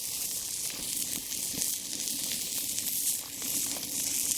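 A rocket stove burns a couple of sticks outdoors, giving a steady close hiss and crackle with scattered small pops and snaps, no voices heard.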